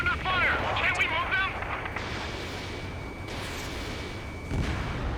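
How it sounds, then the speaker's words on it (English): Radar vehicles coming under fire in the combat flight video game Ace Combat 7: Skies Unknown, with distant gunfire and explosions rumbling steadily under a faint wind-like hiss, a radio voice talking briefly at the start and a thud near the end. "The radar vehicles are under fire."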